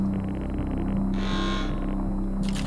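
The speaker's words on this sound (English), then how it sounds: "This action sets off an alarm, echoing loudly down the adjacent corridor." An alarm in the video game Stories Untold, a distorted electronic tone pulsing with a brighter swelling burst in the middle, loud and echoing over a low steady hum.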